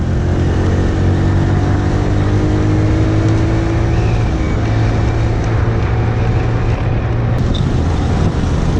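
A vehicle engine labours with falling power, a loud, continuous low drone with a steady tone that sags as it strains, close to the microphone, with no talk over it.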